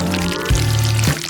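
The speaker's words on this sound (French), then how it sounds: "je vais mettre de la sauce au-dessus des nouilles" Sauce poured over a plate of noodles in a home kitchen, a steady loud pouring stream lasting throughout with two brief surges, no talk.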